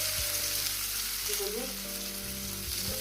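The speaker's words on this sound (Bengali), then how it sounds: "ডিম ভাজার তেলে আলুগুলো একটু ভেজে নেবো" Continuous loud sizzle of potatoes frying in hot oil, with occasional light clinks and stirring sounds underneath.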